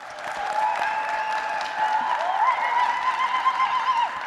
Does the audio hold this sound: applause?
yes